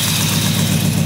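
A 1967 Ford F250 pickup engine runs steadily at close range with a continuous low rumble and uneven chugging texture from a misfire, with no talking over it.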